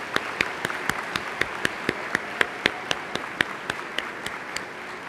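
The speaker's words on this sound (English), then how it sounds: "Please join me in a full round of applause for these outstanding candidates." Applause at a college winter commencement for award candidates, heard as a steady run of crisp, evenly spaced claps over a soft room hiss for several seconds, fairly distant and without any voices.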